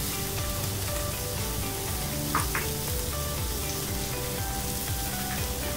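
Two chopped garlic cloves frying in a tablespoon of oil in a pan, a dense continuous sizzle and crackle filling the whole stretch, close and steady with a couple of brief ticks of stirring.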